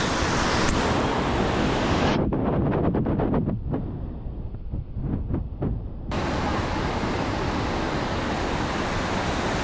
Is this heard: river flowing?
yes